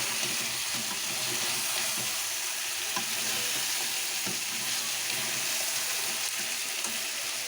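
Masala fries in a pan with a loud, even, broadband hiss, joined by faint occasional stirring scrapes, close and continuous with no talk.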